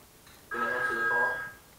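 An incoming call rings on a phone set to speaker, one short electronic tone lasting about a second, moderately loud and close against quiet background noise.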